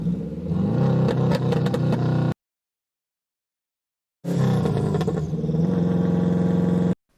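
Library car sound effect: two loud bursts of engine revving and rattling clatter, separated by about two seconds of complete silence, with no voices.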